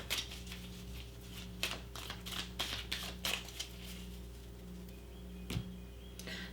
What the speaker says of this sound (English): let me just give this deck a little shuffle